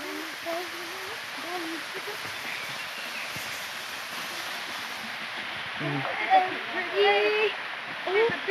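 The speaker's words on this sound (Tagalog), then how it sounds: "This is Prinsesa Falls." Prinsesa Falls waterfall in Santiago, Caraga, Davao Oriental, Philippines: a steady broadband rush of falling water with people talking over it throughout.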